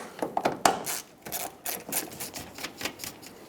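Rapid ratcheting clicks and metallic scraping as 8mm mounting nuts are removed from a 2012–2018 Nissan Altima taillight, close up and steady with no talk.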